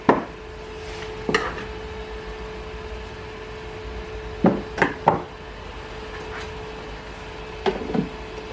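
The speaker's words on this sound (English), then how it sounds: "remove the IPA tank" Removing the IPA tank from an Elegoo Mercury Plus resin printer brings a few sparse plastic clacks and knocks, close and brief, scattered over a steady low machine hum.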